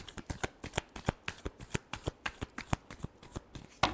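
Tarot cards are riffled and shuffled by hand in a quick, steady run of crisp flicking bursts, close and clear, with no voices.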